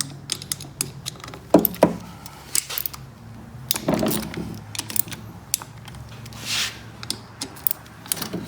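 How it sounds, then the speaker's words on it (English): An 8mm ratchet loosens and removes bolts from the aluminum clutch cover of a Venom Motorsports Madix/Grizzly ATV, giving irregular metallic clicks, short ratcheting runs and light clinks of bolts being handled, nearby and without talk. "We're just gonna take out all our 8mm bolts."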